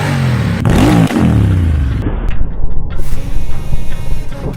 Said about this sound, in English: the system's free-flowing design delivers a custom V8 sound